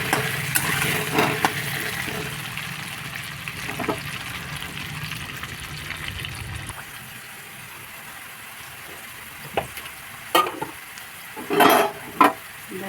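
Potatoes seasoned with salt and turmeric fry in oil in a pan for a Bengali chicken curry, a steady sizzle and crackle that fades after a few seconds, followed by a few sharp stirring clatters near the end.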